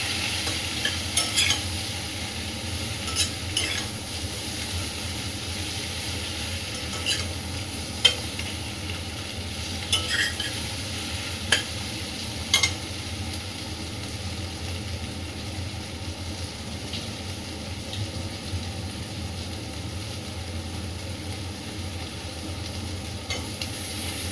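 Onion fries in a pan with a soft, steady sizzle, broken by occasional scraping clicks as it is stirred, with a low background hum throughout.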